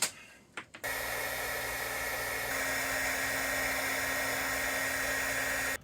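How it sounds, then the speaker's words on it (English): Heat gun shrinking heat-shrink wire connectors during a water pump install, a couple of clicks and then a steady loud blowing whir that holds for several seconds before cutting off. "So we're going to use a good old heat gun."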